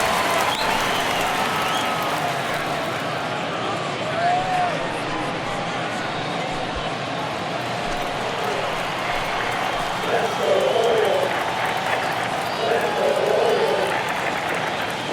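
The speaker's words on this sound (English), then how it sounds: "you can feel this crowd waking up a bit here" Ballpark crowd noise from an MLB baseball video game, Red Sox at Orioles in Memorial Stadium, a steady roar of cheering and applause that swells slightly late in the stretch, with a commentator's voice running over it.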